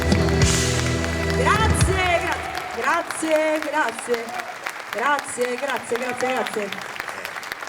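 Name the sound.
audience applauding a song at an outdoor concert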